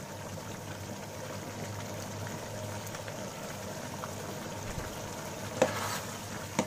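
Aloo keema masala being stirred in a pan over a medium flame, with chopped coriander added: a steady soft sizzle runs throughout, and a couple of louder scraping clinks come near the end.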